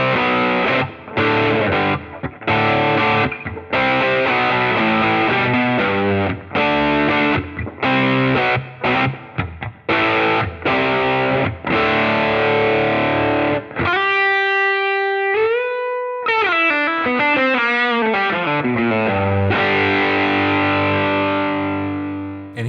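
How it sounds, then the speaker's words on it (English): An electric guitar through an FM3 amp modeler preset with medium distortion plays chugging chords and riffs, then lets sustained notes ring and slide down, loud and upfront. "Scene 3, which is a good amount of distortion"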